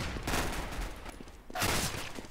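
Two bursts of rapid gunfire ring out in a Counter-Strike match on the de_mirage map. They are fairly quiet and distant, with a short lull between them.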